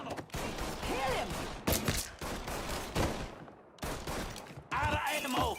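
Rapid gunfire crackles through a firefight in the video game Mafia, with bursts of shots running under loud, overlapping shouted voices and brief quiet breaks between volleys.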